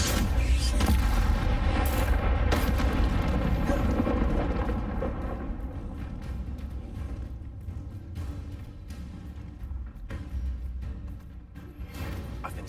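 A Confringo spell blast in Hogwarts Legacy: a loud, deep rumbling explosion that swells at first and then settles into a sustained lower roar with scattered crackles.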